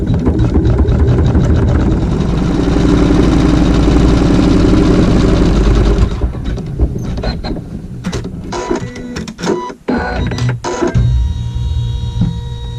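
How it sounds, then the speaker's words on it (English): A sewing machine stitches a seam on a Log Cabin Triangle quilt block in a hoop. It runs as a steady, dense mechanical whir for about six seconds, then breaks into irregular clicks and short stops. "so now we can sew our seam."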